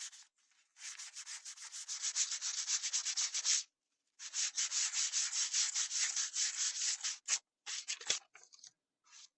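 Sandpaper of 220 grit rubbed back and forth across a wood-burned wooden wall plaque, two long runs of steady, close scratchy strokes separated by a pause, then a few short final passes.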